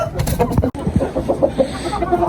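A broody White Heera hen on a rooftop poultry setup in Faisalabad gives a quick run of short, throaty clucks, close and fairly loud, repeating in an uneven rhythm.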